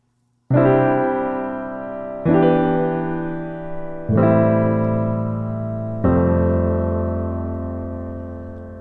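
Four rich, full piano chords with extra color tones ring out in slow succession, each sustained and fading gently, played alone.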